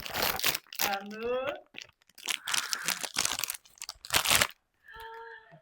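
Crinkly rustling and crunching of a plastic packet being handled, broken up by a voice and another person speaking nearby.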